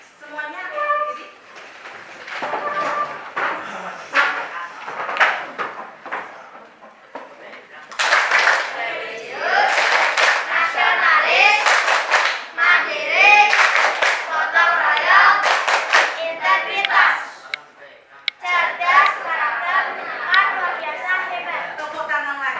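A school class stands and performs the PPK clapping routine, with bursts of rhythmic group hand claps mixed with chanting voices and chatter in a classroom, pausing between rounds.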